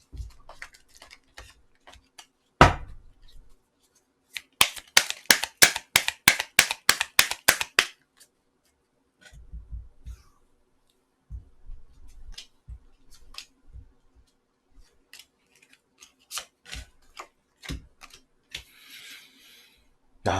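Tarot cards are shuffled in a quick run of crisp riffling snaps, followed by scattered soft slides and taps as cards are drawn and laid down, close and clear in a quiet room.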